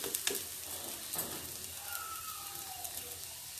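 A leftover-rice snack frying in a little oil in a pan, a soft steady sizzle with a few small pops and spatters, no talking.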